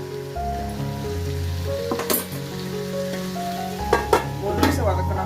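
Hariyali chicken sizzles in a pan with ground mint and coriander paste while being stirred, a steady frying hiss with a few scraping clatters of the spoon near the end.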